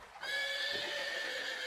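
A horse whinnies loudly in one long, shaky neigh that starts abruptly and holds to the end, close and alone with no talking.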